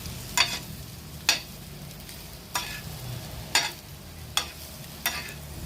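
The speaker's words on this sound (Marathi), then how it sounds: "मंद आचेवर आपण हे परतून घ्यायचं आहे अंड्याला सगळा मसाला व्यवस्थित लागला पाहिजे" Egg pieces sauté gently in masala in a pan over low heat, a low steady sizzle broken by six evenly spaced scraping stirs of a spatula, close and fairly loud.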